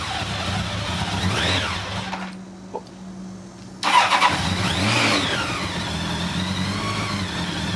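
Honda CB1000SF four-cylinder motorcycle fitted with a Moriwaki exhaust, close by, idling and revving in rising and falling sweeps, with a brief drop to near quiet before the engine picks up again.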